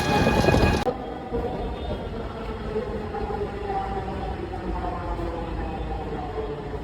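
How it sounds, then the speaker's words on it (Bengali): Rain pours steadily over a street in Motijheel, Dhaka, opening with a loud rumbling crack of thunder that gives way to a constant close hiss of falling rain. "যে বৃষ্টি হচ্ছে"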